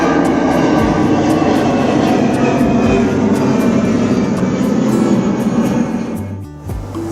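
Jet airliner taking off directly overhead near Barcelona, a loud sustained engine roar that holds strong for several seconds, then dips and fades near the end.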